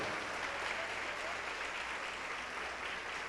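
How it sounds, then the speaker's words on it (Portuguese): A church congregation claps in steady, dense applause at a baptism service, fairly distant and quiet, with no clear speech over it. "Vamos aplaudir ao nome do Senhor."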